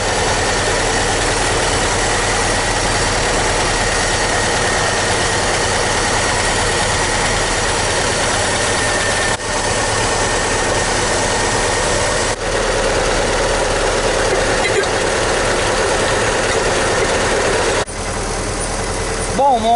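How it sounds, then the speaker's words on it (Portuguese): The engine of a 1978 Chevrolet Opala idles roughly after a mixture adjustment, a loud, close, continuous low rumble with a steady shake, broken by a few brief clicks. "acabei de ajustar a mistura e o motor ainda balança muito"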